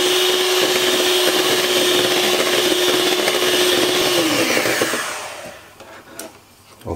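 An electric mixer whirs loudly and steadily through beetroot, chocolate and cinnamon cake batter, then winds down and stops near the end, leaving a quiet tail of faint clinks.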